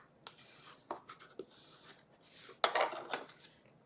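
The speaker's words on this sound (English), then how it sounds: "We're going to fold that in half." Wild wheat patterned cardstock, a 4 1/4 by 11 inch sheet, being folded in half and creased for a handmade card, giving close, soft scraping and rubbing swipes with a sharper crisp burst near the end; no speech.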